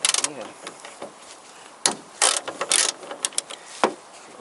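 Hand ratchet loosening the hood hinge bolts on a 1992–2004 Toyota Camry, a few short bursts of clicking at close range, with quiet gaps between them and no talk.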